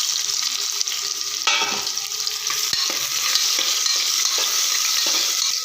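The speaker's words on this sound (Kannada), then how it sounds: "ಈರುಳ್ಳಿ ಕಲರ್ ಚೇಂಜ್ ಆಗುವವರೆಗೆ ಹುರ್ಕೊಳ್ಳೋಣ" Chopped onions fry loudly in oil with whole spices, a dense continuous sizzle broken by occasional stirring scrapes against the pan.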